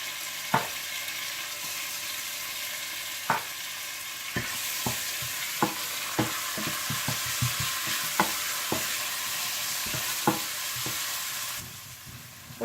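Onion, ginger, garlic and green chillies fry in a pan for dal makhani, a steady sizzle broken by sharp, irregular clicks of a spoon stirring against the pan.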